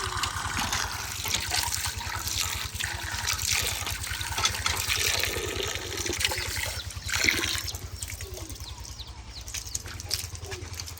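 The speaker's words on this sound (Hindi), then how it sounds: "यहीं पर हमारा नलका है और फ्रेश पानी हम इनको दे सकते हैं" Water from a village hand pump in rural Pakistan splashes and trickles in irregular gushes, with a steady low pulsing underneath and faint farm sounds around.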